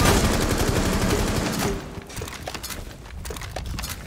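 Explosions from a cluster charge in a tactical shooter game, a dense rattling volley of blasts at the start that fades into scattered sharp cracks and pops.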